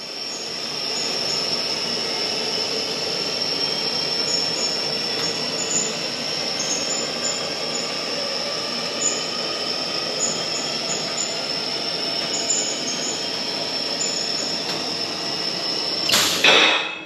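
A motorcycle lift lowers in the bed of a 2023 GMC Denali Canyon pickup with a long, steady mechanical whine and hum, carrying evenly before a brief clatter at the finish.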